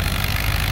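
A freshly overhauled tractor engine labors steadily while pulling a plow at a farm plowing day, a loud, continuous rumble heard up close in a brief burst.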